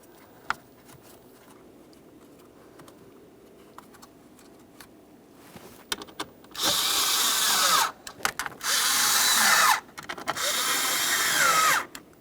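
A power tool drives mounting screws into plastic on a Jeep Patriot blower motor assembly, running in three loud, close bursts after some quiet handling noises.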